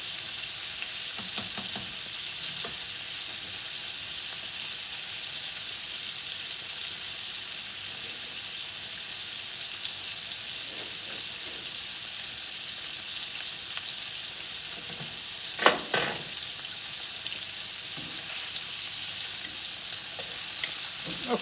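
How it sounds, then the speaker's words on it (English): Fettuccine being stirred in a pot while chicken fries in a pan nearby, a steady continuous sizzle with faint scraping stir sounds and occasional clinks throughout, no talking. "While I'm stirring my fettuccine."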